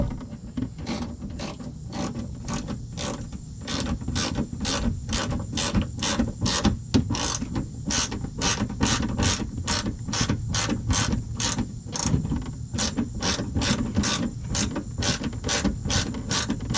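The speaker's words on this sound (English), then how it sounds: "put these screws in from the bottom" Ratchet wrench driving screws up into a Toyota Camry headlight assembly from underneath during accident repair, a steady run of quick sharp clicks repeating for the whole stretch, close and fairly loud.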